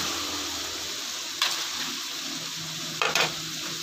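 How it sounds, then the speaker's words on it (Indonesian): Garlic and onion sauté in a pan for pork offal dinuguan, a steady sizzling hiss running throughout with two short bursts of sharper scraping or stirring noise. "pangagisa-gisa lang muna natin sa bawang sibuyas"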